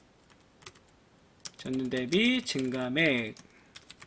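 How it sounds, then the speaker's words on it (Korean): Rapid clicking of a computer keyboard while filling in an Excel spreadsheet; close, crisp keystrokes start and end the passage, with a person talking over the middle stretch. "억원 그대로 타이핑 치시면 되고요"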